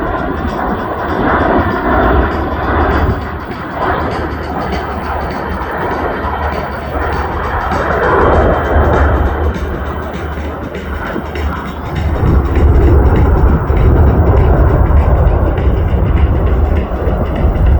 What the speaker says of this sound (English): listen to the power of these engines now as it slowly flies by and then powers up and begins its go-around